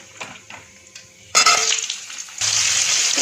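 Sliced potatoes dropped into hot oil already frying with black cumin in a home kitchen pan, a sudden loud sizzle breaking out after a few soft clinks, fading slightly, then flaring up again with stirring.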